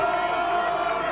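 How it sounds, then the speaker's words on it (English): Stadium crowd roaring steadily at the 1986 QAFL football grand final between Coorparoo and Southport, a dense continuous wash of cheering and whooping with no break. "Listen to the crowd in the background."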